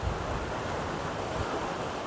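Rough sea waves roll and crash continuously on the shore in Oman, a broad steady wash of surf with wind roar and no distinct breaks or voices.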